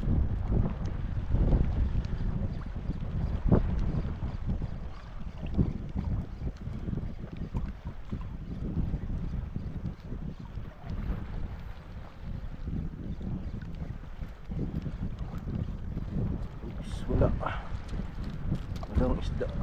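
Steady wind buffets a small fishing boat out on open, deep sea off San Vicente, Palawan, a continuous rushing roar with microphone gusts throughout and occasional muffled voices underneath.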